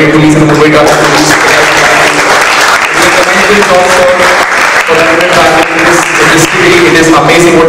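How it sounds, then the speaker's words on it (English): Students of Campion School applauding the Mumbai police and traffic police, a loud, dense round of clapping that fills the room, mixed with music or voices throughout. "can we have a big round of applause everybody for the Mumbai police and the Mumbai traffic police"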